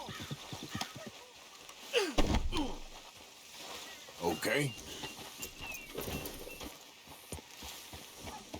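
Horse hooves clip-clopping in the Western video game Red Dead Redemption 2, with irregular hoofbeats under game music and ambience while someone speaks briefly.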